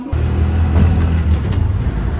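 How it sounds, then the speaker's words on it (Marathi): Auto rickshaw ride in Mumbai heading home from a station, with a steady low engine drone and road rumble continuing loudly and close throughout, no voices. "चला मित्रांनो आता बसलो रिक्षामध्ये"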